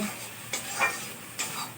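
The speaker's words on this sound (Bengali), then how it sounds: "তাহলে এরকম যত নেড়ে যাবে তত আর কি ভাজাটা ভালো হবে" Food frying in plenty of oil in a pan gives a faint, steady sizzle broken by two or three soft scraping strokes as it is stirred.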